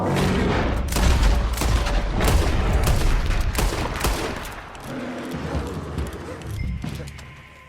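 Rapid gunfire in Red Dead Redemption 2 during a Horseshoe Overlook shootout, loud overlapping bursts of shots and booms throughout, dense at first and then thinning into scattered reports.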